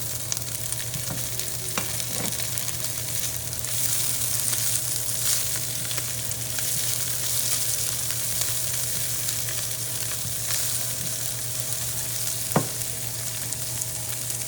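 Continuous loud sizzling of egg masala frying in hot oil, steady and close, with an occasional faint clink and a low hum underneath.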